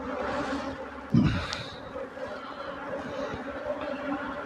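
A steady honey bee buzz hums throughout at a hive, with a brief louder thump near the start and faint voices in the background.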